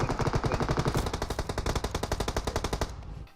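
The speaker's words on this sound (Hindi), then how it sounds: "अब गोलियां आगे आपस में, ये लोग आपस में चला रहे हैं" Rapid, sustained automatic gunfire in a video game, dense repeating shots fired in a long continuous stream that stops abruptly.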